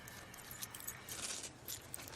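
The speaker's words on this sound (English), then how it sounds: "If you give me your keys, I'll put them in your car." Keys jangle in a brief, faint metallic rattle as they are handed over, a light scattered clinking with no talk in between.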